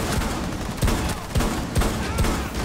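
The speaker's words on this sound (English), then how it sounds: "These shotguns are amazing." Shotguns fire in a rapid series of heavy blasts during a Rainbow Six Siege match, about five booming shots spaced roughly half a second apart over dense game background noise.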